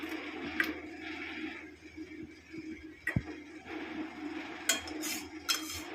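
Dishes clatter in a home kitchen while hot ilish fish curry is poured into a bowl: quiet scraping and soft pouring, broken by a few sharp metallic clinks of pan and bowl.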